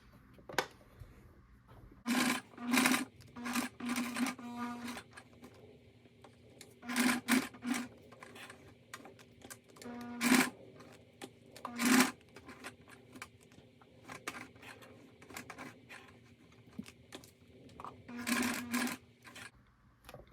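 A sewing machine stitches a vinyl pouch in short bursts of rapid mechanical whirring, separated by pauses and light handling noises, close and moderately loud, with no talking.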